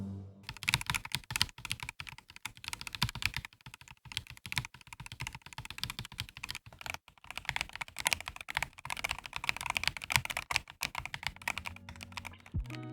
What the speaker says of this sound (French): voici une démonstration du clavier lorsque l'on frappe dessus